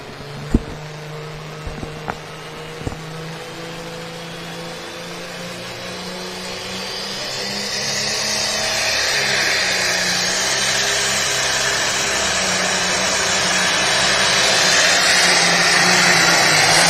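A super semi truck pulling at a truck pull event, its diesel engine droning low and building steadily in loudness and pitch as it strains under load, with a few sharp clanks near the start.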